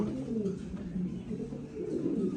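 American long-tail pigeons with huge tails coo in a low, continuous rolling murmur, several birds close together, steady and moderately loud, with no voices.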